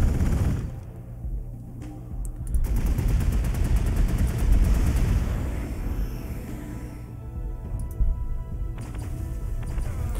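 Bursts of rapid gunfire and heavy booms from a Warhammer 40k: Gladius battle come in repeated volleys, loud and continuous, with no voices over them.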